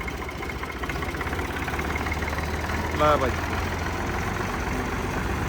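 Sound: Indofarm 3511 tractor engine idling

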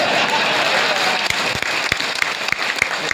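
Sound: audience clapping

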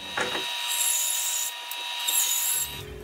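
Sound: bandsaw cutting angle on guitar neck pieces with jig

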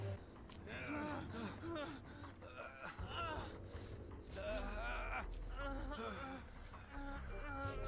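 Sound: injured survivor panting in Dead by Daylight video game

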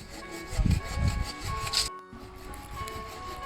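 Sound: hand saw cutting wood

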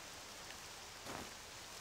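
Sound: rain falling in the video game Octopath Traveler 2

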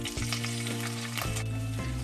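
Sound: scallions frying in oil over low heat

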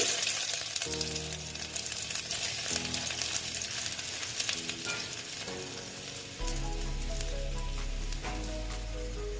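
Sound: black cumin and chopped ginger sizzling in frying oil

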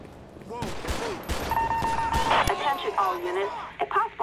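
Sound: gunfire in the video game GTA 5

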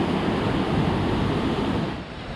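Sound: river water flowing under a bridge

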